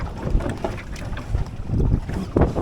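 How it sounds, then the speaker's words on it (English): Wind roars steadily across the microphone while sailing a boat with a mizzen in a race, buffeting and gusting loudly throughout with water wash beneath and no talk. "Okay, got a little bit of wind now."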